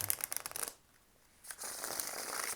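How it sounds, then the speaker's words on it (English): Crisp riffling and flapping of tarot cards being shuffled, close up, in bursts with a short quiet pause in the middle before the rustling resumes. "I'm just going to shuffle a little bit more"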